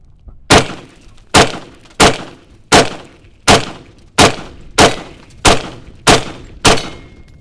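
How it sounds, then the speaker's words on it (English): Ten green tip 5.56 rifle rounds slam into ballistic glass one after another at a steady pace, each a loud, sharp crack with a brief ringing decay. "fire about 10 to 15 rounds, try to create a hole and see how many rounds it takes to actually break through this ballistic glass"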